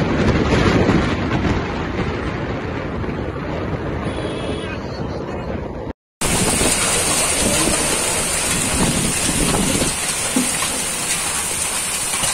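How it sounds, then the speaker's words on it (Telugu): Heavy rain with thunder pouring down in Parvathipuram, Vizianagaram district, after a hot day. It is a dense, steady roar of rainfall close by, with wind buffeting the microphone, continuous throughout with no voices. "ఉరుములు మెరుపులతో కూడిన వర్షం కురిసింది."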